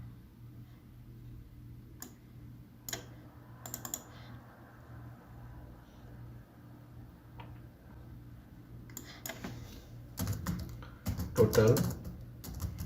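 Soft keyboard clicks come in scattered taps and short runs while someone fills in a PDF form, over a steady low hum, with a person speaking now and then.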